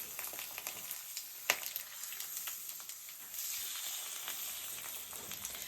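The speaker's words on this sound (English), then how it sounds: "to make sure the egg really isn't sticking, I'm just gonna kind of slide my spatula around a little bit" An egg frying in a pan while a spatula slides around it, a soft steady sizzle with faint scraping and a sharp tap near the start.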